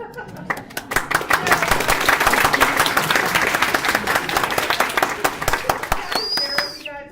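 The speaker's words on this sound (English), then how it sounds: "they are clapping for you coming down" An audience at a dental board exam information session claps as a speaker comes down from the stage, a loud, dense burst of many hands building quickly and sustained for several seconds, then tapering off with a whistle-like tone near the end.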